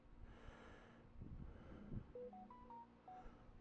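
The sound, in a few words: phone notification sound from a Facebook app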